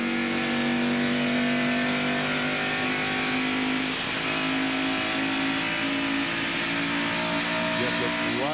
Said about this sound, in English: cDuffie right on the left side of the screen as we see the Bodine brothers lap by him